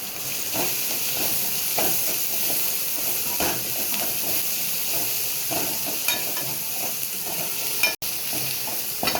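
Six dried red chillies sizzle and hiss in hot oil in a frying pan for a bitter gourd fry, a loud, constant crackle punctuated by scraping stirs close by.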